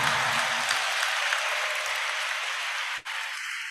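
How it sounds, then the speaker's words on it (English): Applause from the audience at a university inaugural lecture, a broad wash of many hands clapping at moderate volume that holds steady, then briefly cuts out near the end before a thinner continuation. "Please a round of applause for them."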